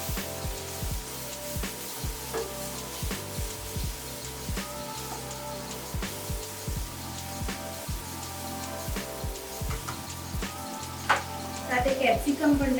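Tomatoes being added and sautéed in a pan for pav bhaji, with steady close sizzling and frying broken by repeated sharp scraping and stirring clicks throughout, growing busier near the end.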